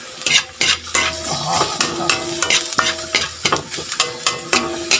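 Okra and golden-browned garlic frying in a pan, with a steady sizzle broken by repeated clanks and scrapes of a utensil stirring against the metal, loud and close.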